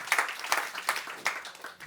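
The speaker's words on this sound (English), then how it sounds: "That deserves a round of applause, definitely." An audience gives a brief round of applause at a Europa-Forum Wachau event in Austria, a short burst of clapping that rises and falls over a couple of seconds.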